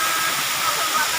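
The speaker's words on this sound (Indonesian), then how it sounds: "Kita berada di air terjun Amilek, Atambua." A waterfall at Amilek, Atambua rushes with a steady bright hiss, close and continuous, with no voices.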